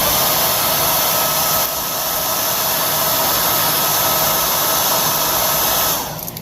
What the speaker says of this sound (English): we're gonna dry it with a hair dryer.